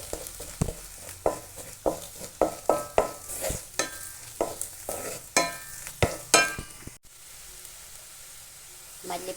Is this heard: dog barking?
no